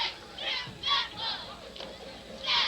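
Crowd cheering at a 1997 high school football game between Thornton Academy and Massabesic, rising in several distant swells of voices over an outdoor stadium murmur.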